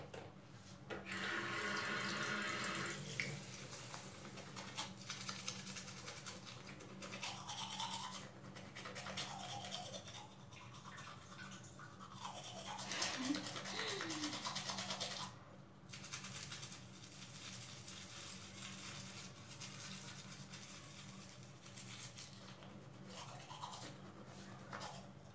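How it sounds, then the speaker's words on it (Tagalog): A toothbrush scrubs teeth in a steady, wet, bristly rasp that continues for about fifteen seconds at close range, then fades to softer rubbing, with running tap water and sink sounds underneath and no talking. "Ayan, tapos na ako nag-toothbrush."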